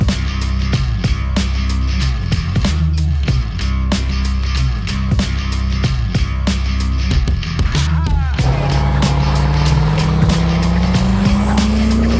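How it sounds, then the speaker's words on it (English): Chevy Nova with a Duramax diesel engine swap driving, a loud continuous engine drone with repeated rhythmic pulses, then a rising whine as it accelerates, with some talk mixed in. "We got a Duramax diesel Nova."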